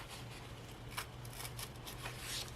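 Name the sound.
paper being ripped by hand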